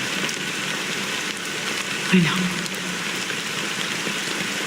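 Steady rain hiss from the Honkai: Star Rail game world, a constant soft wash of falling drops that runs the whole time, with a brief spoken line and a faint low sound partway through.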